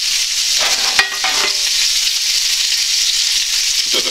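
Chicken legs frying in a pan give off a steady, loud sizzle, with a few clinks and stirring scrapes near the start.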